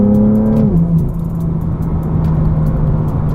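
BMW M2 F87 with a DCT gearbox accelerating, its engine note dropping sharply at a quick gear change, then droning on steadily as the car pulls, heard from the cabin.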